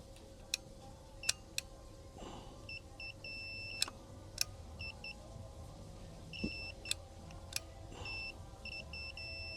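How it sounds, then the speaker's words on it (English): Several short, high electronic beeps from a Club Car golf cart throttle switch sound at irregular intervals as the accelerator is pressed, over a steady low mechanical hum, with faint clicks between them. "you can hear it when I hit the gas, it beeps"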